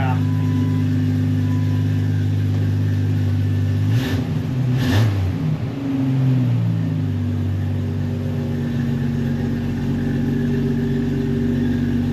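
A Jeep TJ engine with a newly fitted exhaust idles with a deep, throaty rumble, then is blipped in a brief rev before settling back to a steady idle, close and loud.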